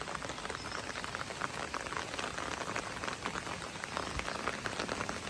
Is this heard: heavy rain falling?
yes